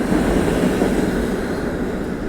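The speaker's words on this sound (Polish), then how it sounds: "tu mamy takie trochę nowoczesne tramwaje" A modern tram in a Czech city rolls by with a loud, steady broadband rumble and rail hiss, close and continuous for a couple of seconds, slightly easing toward the end, no voices.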